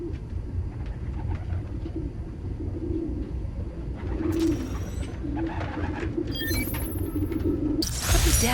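Pigeons cooing in a city park in Spider-Man: Miles Morales, low repeated coos from a small group close by, with a few brighter sharp sounds breaking in near the end.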